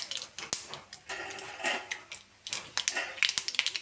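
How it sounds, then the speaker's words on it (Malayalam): Mustard seeds popping in hot coconut oil: sharp irregular cracks and ticks over a soft frying hiss, close by, growing into a quicker run of pops at the end. "കടു പൊട്ടി വരുമ്പോൾ"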